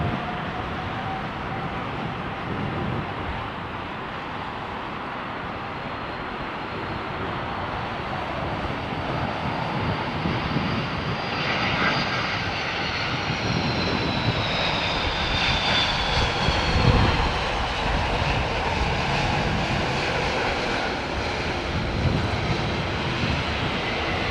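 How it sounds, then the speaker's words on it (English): A British Airways airliner lands at Heathrow Airport, its engine roar swelling and whining as it passes close by, then a sustained rumble with no speech. "Slick landing on the BA."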